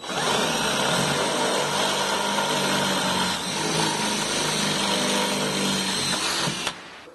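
A power drill with a long bit whines steadily and loudly for several seconds, close by, drilling a Jeep JK body for a roll cage, then cuts off abruptly near the end.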